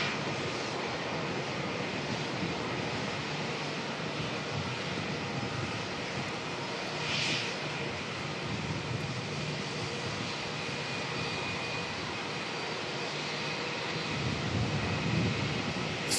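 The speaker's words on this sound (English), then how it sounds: "What is heading to Brisbane as well? Jetstar. With their 321 Neo." A Jetstar Airbus A321neo jet airliner is heard as a steady, broad engine roar at moderate distance, holding level throughout with no voices.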